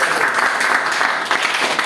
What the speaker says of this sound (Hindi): आप अपने लिए जोरदार से ताली बजना चाहिए, ताली बजना चाहिए।